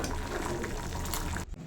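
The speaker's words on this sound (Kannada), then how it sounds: "ಸ್ವಲ್ಪ ನೀರು ಹಾಕಿ" Water splashes briefly into a pan of cauliflower curry, a short gushing pour that stops abruptly after about a second and a half.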